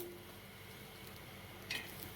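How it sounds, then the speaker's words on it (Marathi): Grated coconut roasting on a hot griddle gives off a faint, steady sizzle, with one brief clink of a utensil near the end. "आता तव्यावरती मी खोबरं टाकते आणि खोबरं पण आपल्याला असं लालसर होईपर्यंत परतून घ्यायचं आहे"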